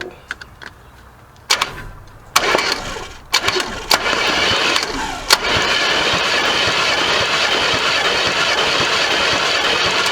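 A 1979 Chevy G20 van engine cranks in a few short bursts, then fires and settles into a steady, loud running rumble close by.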